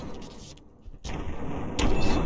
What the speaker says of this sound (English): Akimbo shotguns.